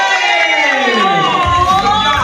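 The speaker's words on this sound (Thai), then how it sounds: "ขอเสียงปรบมือให้กับน้องปทุมธานีด้วยครับเย้" A crowd cheers and shouts in a loud, continuous roar, with high children's voices rising above it.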